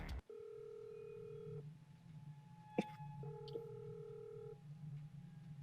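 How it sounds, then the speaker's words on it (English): A telephone rings in two long electronic trill bursts with a gap between, faint over a low steady hum, with a few soft clicks. "There's a phone call."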